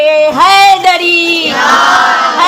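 Loud, close voices at a religious gathering honouring Bibi Ummul Baneen chant the slogan Haidari, drawn-out sung tones rising together and fading into a broader crowd swell.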